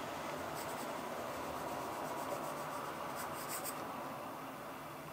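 Pencil drawing a stylized sea turtle shape on paper: continuous soft scratchy rubbing strokes, close and quiet, without pause across the stretch.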